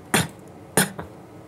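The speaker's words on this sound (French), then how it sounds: "Voilà, tousser." A patient coughs twice during a swallowing examination, two sharp, close bursts spaced under a second apart, the second followed by a faint trailing catch, with quiet room background and no talk.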